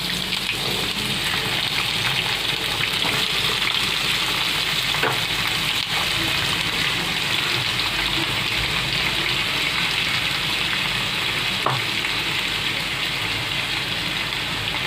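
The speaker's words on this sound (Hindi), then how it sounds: "तो अच्छे से इसको घी के अंदर भून लेना है, सब फ्राई करके लेना है इसमें" Sweet potato and almonds fry in hot ghee, giving a close, steady, even sizzle that holds at the same level throughout, with a few faint stirring clicks and no voices.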